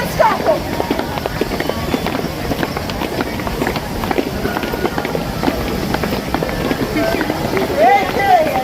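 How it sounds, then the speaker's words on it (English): A crowd stomps their feet loudly and hard in a continuous, dense rumble of thuds, with voices mixed in throughout. "we are going to stomp our feet as loud and as hard as we can"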